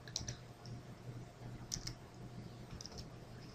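Someone types an Excel 2010 cell formula on a computer keyboard, a few faint, close key clicks scattered over a quiet room hum with no talking.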